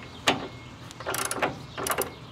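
A Snap-on power gun takes door bolts off a Honda Civic. There are three separate bursts of close, rattling mechanical whirring, with short quiet gaps between them.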